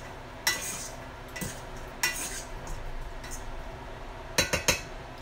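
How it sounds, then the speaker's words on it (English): Food is stirred in a steamer pot, with a few sharp utensil clinks and scrapes against the metal over a quiet background hiss, and a quick cluster of knocks near the end. "Stir all this up."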